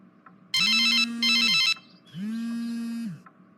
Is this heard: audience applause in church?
no